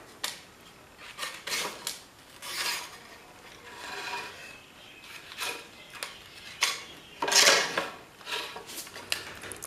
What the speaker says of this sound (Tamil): இப்போ மீதி இருக்கிற பகுதியை கட் பண்ணி எடுத்துடலாம்.